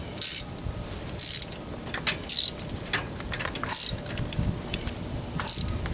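A socket wrench ratchets in short, clicking bursts while tightening a bolt on the leaf spring center pin of a Jeep Wrangler YJ. About five close, crisp bursts are separated by brief pauses.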